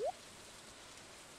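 Soft steady rain from Stardew Valley, a faint continuous hiss of falling drops, opening with a brief rising chirp before settling into an even patter.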